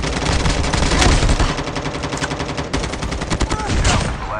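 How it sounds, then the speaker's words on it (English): Rapid gunfire in the Call of Duty Mobile video game rattles almost continuously in loud, dense bursts of automatic shots, with brief gaps and scattered single cracks over a busy game soundscape. "the enemy missed many shots"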